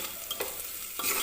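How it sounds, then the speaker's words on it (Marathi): A spoon stirs lima bean curry with fresh coriander in a pot, giving a few soft scraping strokes with light sizzling between them, close and fairly quiet with no talking. "कोथिंबीर वगैरे टाकून सुद्धा मी छान असं हे मिक्स करून घेतलं."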